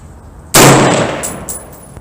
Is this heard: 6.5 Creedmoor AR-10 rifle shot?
yes